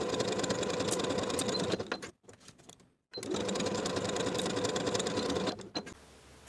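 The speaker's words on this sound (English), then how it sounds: "Sew the shoulders at 3/8 of an inch" A sewing machine stitches the shoulder seams of an athletic top at 3/8 inch in two runs of close, fast mechanical whirring separated by a short pause, with a brief quieter burst after the second run.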